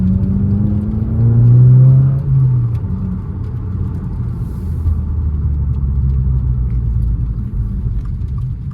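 A loud, throaty exhaust on a 2023 Subaru WRX with the axle-back muffler deleted rumbles and revs briefly, then settles into a deep, steady drone with no talking.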